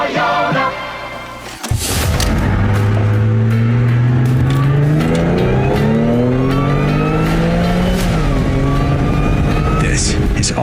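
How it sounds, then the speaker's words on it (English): A loud supercharged car engine revs hard, its blower whine rising in pitch through the revs, roaring continuously after a brief thump near the start. "I love the blower noise on that."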